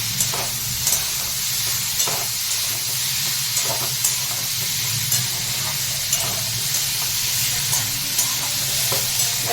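Drumstick flower curry sizzles steadily in a frying pan while a spatula stirs it, with soft periodic scrapes over a constant close hiss of frying.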